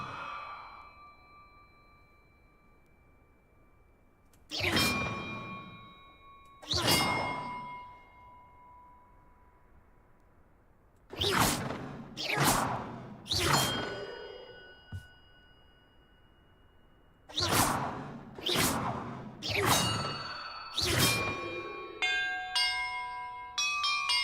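Church bells rung one at a time in a Hogwarts Legacy puzzle: about nine clear, ringing strikes in uneven groups, each decaying slowly, then a bright rising chime flourish at the end over quiet background.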